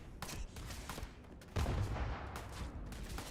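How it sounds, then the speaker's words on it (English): Grenade explosion in the video game Starfield: a faint scene of scattered gunfire-like pops, then a low, rumbling blast that swells and lingers as a dull roar. "You made me waste a grenade."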